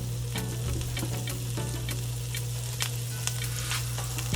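Garlic, tarragon, cilantro and onion fry in a pan for chicken cordon bleu, giving a steady, close sizzle with a few light clicks and stirring scrapes over a low hum.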